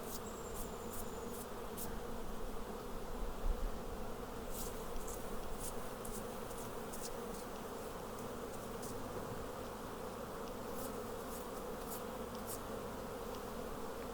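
Honeybees being brushed off honey super frames, a steady close buzzing drone of many bees that holds evenly throughout, with faint higher ticks and no voices.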